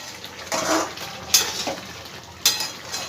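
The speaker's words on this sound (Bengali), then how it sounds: "ভালো করে একটু নাড়াচাড়া করে দেবো" A spoon stirs chicken and cucumber curry in a pot, with a few sharp clinks against the metal and soft wet scraping sounds, all close and moderately loud.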